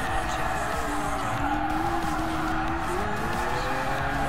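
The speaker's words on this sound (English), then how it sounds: "That was actually a proper drift right there." A Lamborghini Aventador drifts in Gran Turismo Sport with a steady, loud engine roar and a wavering tire squeal through the slide, while a person talks over it.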